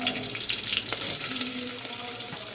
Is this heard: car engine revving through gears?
no